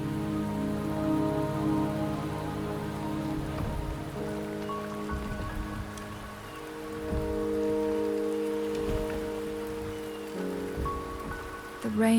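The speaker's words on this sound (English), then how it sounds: "The rain is subsiding, and the sky will soon clear." Rain pours in the Wuthering Waves video game as a dense, steady hiss of drops. Soft background music plays beneath it, with a few faint thuds scattered through and a brief louder knock at the very end.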